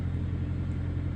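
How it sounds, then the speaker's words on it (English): A backhoe engine runs steadily in the background, a low continuous rumble with no voices over it. "Sorry about the noise, the backhoe's running in the background"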